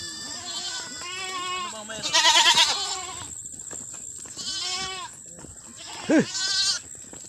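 Several goats bleat repeatedly nearby, wavering calls overlapping one another with short pauses in between.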